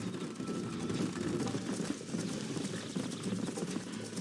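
Rapid, rhythmic hoofbeats of a galloping horse in Red Dead Redemption pound on continuously, close and fairly loud, with no talking.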